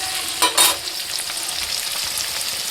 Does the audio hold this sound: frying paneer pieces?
yes